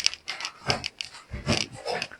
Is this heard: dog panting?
yes